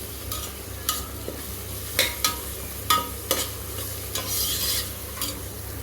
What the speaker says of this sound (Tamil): இப்போ இஞ்சி பூண்டு பேஸ்ட்டு சேர்த்துட்டேன். அது சேர்த்து நல்லா பச்சை வாசனை போகிற வரைக்கும் நல்லா வதக்கணும்.